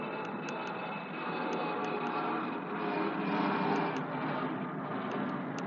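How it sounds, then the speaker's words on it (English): A low-flying airplane roars overhead, a loud, steady broadband rumble that swells slightly and holds for several seconds with no voices. "Oh, that's a big low plane."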